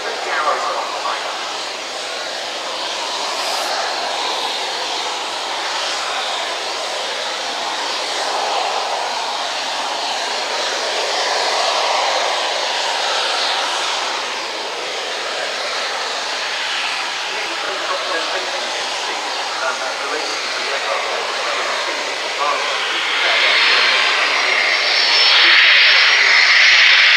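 A Ukrainian Flanker fighter jet flies a display at the 2018 RIAT airshow at Fairford, a steady, loud broadband jet roar that swells slightly near the end, with a commentator talking over it.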